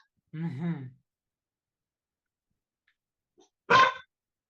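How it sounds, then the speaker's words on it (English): Dogs indoors giving two separate short bursts, a harmonic bark-like call near the start and a sharper one near the end, with silence between. "Those dogs are driving you nuts tonight, aren't they?"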